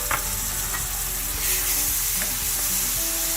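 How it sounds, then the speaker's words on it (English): Spice powders sizzle and fry in hot oil in a pan while being stirred for a Chettinad-style prawn masala, a steady close crackling hiss with soft scraping. "Give it about a few seconds to fry in the oil before adding the softened tomato."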